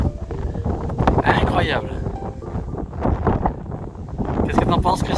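Strong wind sweeps across a wild mountain pass, gusting and buffeting in uneven surges under a person's speech throughout.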